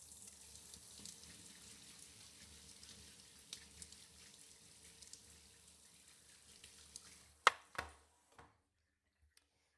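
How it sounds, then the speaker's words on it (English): Tap water runs steadily into a sink while a razor is rinsed during a leg shave, a soft continuous splash ending with a few louder knocks and clatters before the flow stops. "you also want to make sure that you're rinsing your razor very often as you go to shave"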